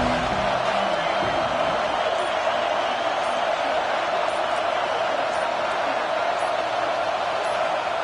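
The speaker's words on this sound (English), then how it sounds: "This crowd ready to make its presence known." A college football stadium crowd roars and cheers in a steady, dense wash of noise that fills the whole stretch without letup.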